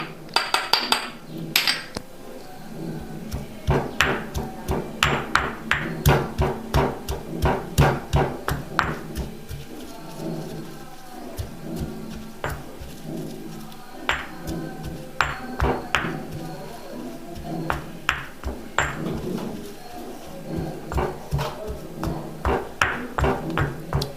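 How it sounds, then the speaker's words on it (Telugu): Garlic and chili powder being pounded in a mortar, a long run of sharp, rhythmic knocking strikes, close and irregularly spaced, with a few brief pauses. "ఎల్లిపాయ కారం దంచేసుకున్నాం"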